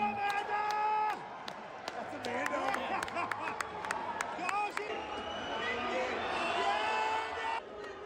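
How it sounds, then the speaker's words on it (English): A crowd cheering and whooping for a woman trying to climb an escalator in reverse, with bursts of excited shouts, claps and a few sharp clicks running over a busy background. "everyone was cheering her on"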